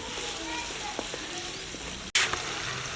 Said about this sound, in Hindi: ज़ीरे में थोड़ी देर के लिए और नमक में भून लेना है।